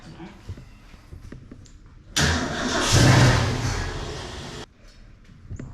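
A 1973 Ford Mustang Mach 1, off the road for fifteen years, cranks and fires up into a loud rough run for a couple of seconds before cutting out, with quiet talk before and after.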